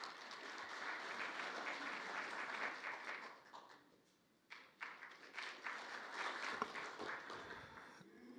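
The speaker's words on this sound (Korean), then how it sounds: "큰 박수로 부탁드리겠습니다." Audience applause at a Korean political forum on abolishing party nominations for local officials: a dense wash of clapping that dips and fades midway, then rises again in scattered bursts.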